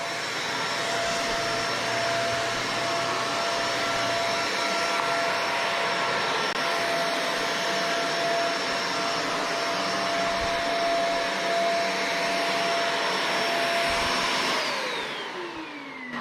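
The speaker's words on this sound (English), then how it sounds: "being able to vacuum this really plush shag style carpet" A Shark vacuum from Costco runs over plush shag carpet, giving a steady, close motor whine with a high tone and rushing airflow for a long stretch that winds down at the end. No one speaks.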